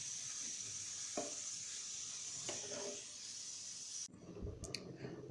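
Tomatoes being stirred in a pan while cooking down for a mixed fruit chutney, giving a steady close sizzle with a few spoon clicks against the pan and a scrape near the end.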